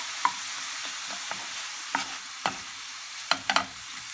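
A spoon stirs a salted filling mixture in a frying pan for breakfast buns, with soft scraping and scattered taps over a continuous gentle sizzle, close up and with no voices.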